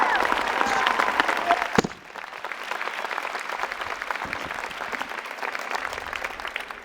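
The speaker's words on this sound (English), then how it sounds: "Class of 2017, join me in a big round of applause for those who nourished and supported you" Commencement crowd at a college arts, sciences and engineering graduation ceremony breaks into a big round of applause for families and friends, dense steady clapping filling the hall after a brief voice at the start, then carrying on evenly.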